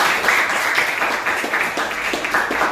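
Classroom applause at the close of an Indonesian guidance counselling session, a short burst of steady, fairly loud group clapping from students filling the room without a break.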